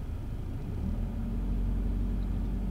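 A car engine idles steadily at low pitch throughout, a constant rumble with no revving and no voices.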